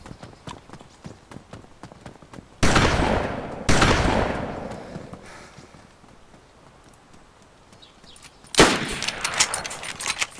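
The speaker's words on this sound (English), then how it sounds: "Shot, shot, shot." Gunfire in the online survival game DayZ during close combat near a police station: a couple of loud broadband shot bursts with decaying tails early on, then quieter rustling and a final loud shot, with no talk.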